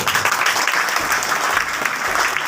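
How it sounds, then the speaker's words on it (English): A room full of people at a birthday celebration claps steadily, a dense, even burst of applause. "please give a huge round of applause for these two people"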